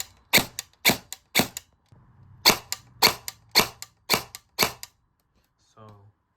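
A series of ten sharp gunshots fired through an aluminum mock suppressor, loud and close with a slight ringing tail, in two groups separated by a short pause, followed by a brief faint mechanical sound.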